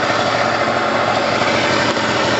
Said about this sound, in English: every time it's always going to idle high until it's warm